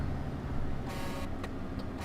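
A loud truck horn in Euro Truck Simulator 2 blares for about a second over a steady engine drone, followed by a couple of short, quieter honks.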